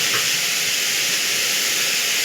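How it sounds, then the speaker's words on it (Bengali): Soybean chunks and pointed gourd fry in a pan with a steady, close hiss and sizzle that holds evenly throughout, no voices. "এটাকে 3-4 মিনিট ভালো করে একটু লাল লাল করে ভেজে নেবেন"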